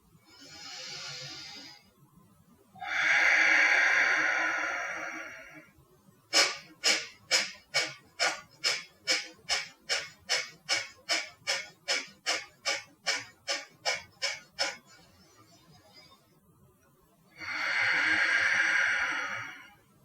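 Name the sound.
forceful breathing exhales through the nostrils, breathwork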